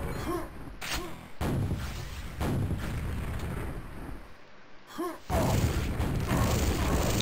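Rocket fire and explosions in a competitive video game duel, with several sharp blasts and booms separated by brief gaps, loud and punchy.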